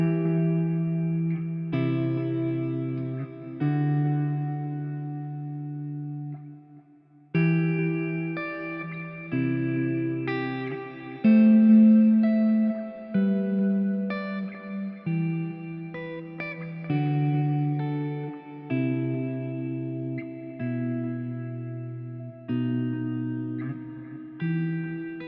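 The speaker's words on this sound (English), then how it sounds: "I'm just using a little bit of tape delay and then some plate reverb" Sustained electric guitar chords through a Zoom MS-50G ring out with tape delay echoes repeating each note and a lush plate reverb tail, playing slowly and evenly with brief pauses between phrases.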